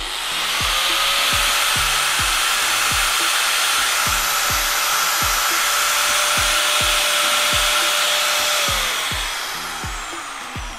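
A Bosch electric drill runs quietly and steadily with a smooth, continuous whir. A faint regular ticking sounds beneath it throughout, and the whir eases off slightly at the very end.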